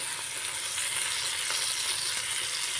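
Dried labahita fish sautés with garlic and onion in hot oil, a close, steady sizzling and frying hiss with faint stirring, and no talk over it.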